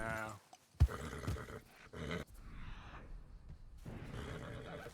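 A horse in the video game Red Dead Redemption 2 whinnies in a short, loud, wavering cry near the start, followed by softer snorts and game sounds, with someone talking at times.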